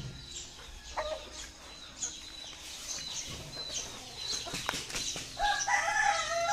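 A rooster crows nearby in a backyard flock, with one call early on and a longer, louder crow toward the end over faint background noise.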